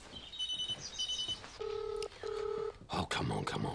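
Two steady dual-tone telephone dialing beeps, each about half a second long, sound close and clear against a faint room background, with a burst of other noise following them.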